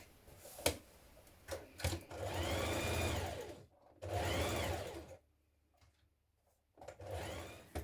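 Sewing machine stitching a shoulder seam on a beginner's top, several separate close bursts of motor whir between short clicks and quiet pauses, with no voices.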